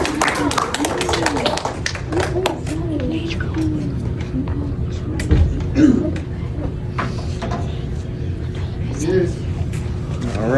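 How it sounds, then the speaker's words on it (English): An audience claps at a 5th grade boys leadership program award ceremony at Northgate Intermediate School, with a sharp burst of clapping near the start under ongoing talk and noise from a crowded room. "Clap it up. Clap it up."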